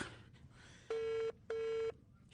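A telephone line gives two steady beeps, each lasting under half a second and separated by a short gap, clear and moderately quiet over a low background hum.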